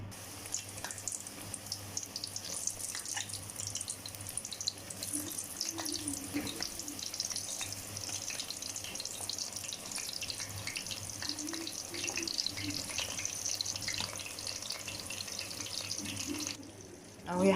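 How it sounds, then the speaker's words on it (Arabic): Tap water runs steadily into a kitchen sink as eggplant is rinsed, a soft continuous hiss with faint splashes and occasional clatter, lasting throughout and stopping near the end. "انا هقوم اجلي الباذنجان واقشر البطاطس على ما الباذنجان ينجلي"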